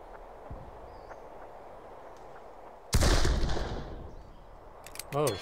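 A sniper shot rings out in a Civil War video game battle at Antietam's Burnside's Bridge: a single sharp, loud crack with a rumbling tail after a quiet stretch, then a shorter burst of firing near the end.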